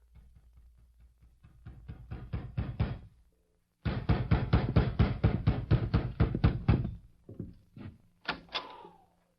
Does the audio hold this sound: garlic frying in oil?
no